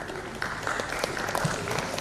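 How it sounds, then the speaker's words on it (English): Applause from an audience at a closing ceremony of a mediation week summit in Mumbai, greeting members called onto the stage; steady dense clapping held at a moderate level, with faint voices mixed in. "Round of applause for these brilliant members"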